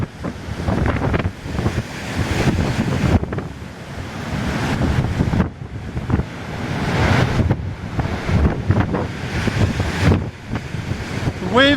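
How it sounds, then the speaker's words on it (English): Huge waves crash against the Duluth, Minnesota shore on Lake Superior during an April bomb-cyclone blizzard, with heavy surf roaring continuously and strong wind buffeting the microphone. The pounding swells loudly in repeated surges. "The waves going back out stop the ones coming in."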